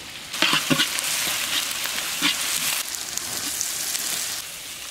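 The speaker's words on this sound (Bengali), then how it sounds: "এবার কড়াইয়ের মধ্যে রসুনটা দিয়ে দাও।" Garlic sizzling and frying in a wok over an outdoor garden cooking setup, a steady crackling hiss with a few sharper spatters near the start, loud and continuous with no talk.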